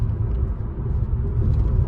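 A Fiat Tipo Cross SW with a 1.0 FireFly engine drives on a road with lane-keeping assist engaged, heard from inside the cabin as a steady, loud low rumble of road and engine noise without a break.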